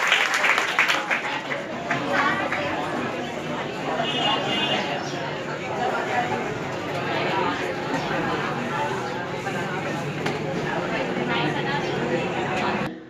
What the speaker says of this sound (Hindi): इनके लिए बहुत जोरदार तालियां हो जाए